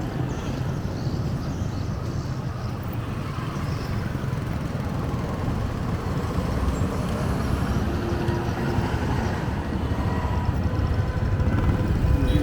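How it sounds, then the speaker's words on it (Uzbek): Busy street traffic with many motorcycles near the Po Nagar towers, a continuous rumble of passing engines that stays dense and steady, growing slightly louder toward the end. "Bu o'ta mototsikl serop ekan."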